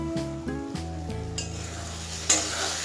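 Ingredients for a Bengali-style prawn dish with taro leaves get stirred with a little water in a pan, giving a few scraping clinks against the metal followed by a soft sizzle.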